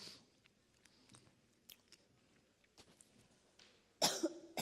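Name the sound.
cough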